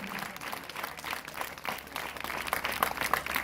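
Congregation at a church testimony service applauding in praise, a steady wash of many hands clapping at moderate volume throughout, with no talk over it.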